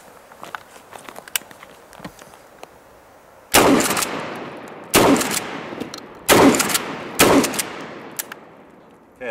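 A Kel-Tec KSG 12 gauge pump shotgun fires four loud, close booming shots with roughly a second between them, each trailing off in a long echo. Quieter clicks and handling noise come before the shots.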